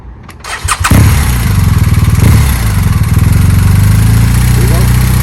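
A motorcycle engine cranks over after a few soft clicks, catches with a loud burst and drops into a close, steady, throbbing idle.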